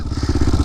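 A Honda 400EX quad fitted with a big bore kit and cam roars loud and close, with a rapid, pulsing engine beat under load.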